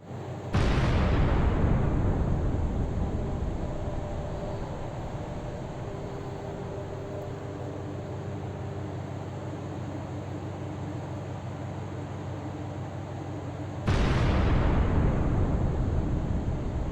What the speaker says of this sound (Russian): в какой-то момент в трюме номер 1 происходит взрыв